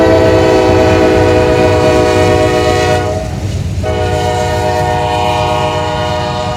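Freight train led by three CN locomotives trailing an NS unit rolls past close by with a steady, loud rumble and rail noise while a long train horn sounds through most of the stretch, briefly breaking off midway.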